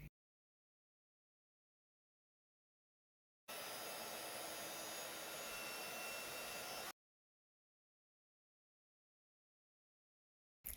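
A heat gun blows for about three and a half seconds, steady and whooshing, while embossing stencilled pink cardstock, with silence before and after.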